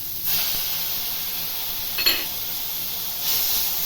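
Tomatoes hit hot oil with fried onions in a pan for Maggi masala noodles, giving a steady close hiss of sizzling with brief louder bursts.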